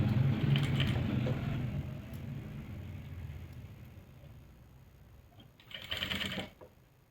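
Sewing machine stitching pleats into a salwar, a low motor whir with rapid needle chatter running steadily, fading slightly, then a brief faster burst near the end; no talking.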